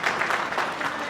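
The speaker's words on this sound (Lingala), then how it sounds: "Vos applaudissements, s'il vous plaît." Audience clapping at an anniversary gala celebrating 50 years of Angolan independence, a steady, dense round of applause filling the room without pause.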